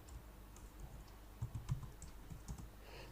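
Quiet computer keyboard typing with a few scattered soft keystrokes and slightly firmer clicks near the middle, as if pressing Enter, with no voices.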